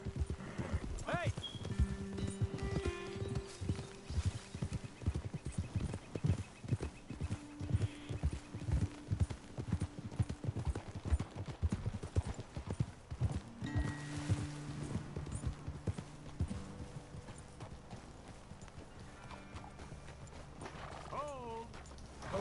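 Horses in the video game Red Dead clip-clop along at a steady walking rhythm, with occasional whinnies, under people talking and background music.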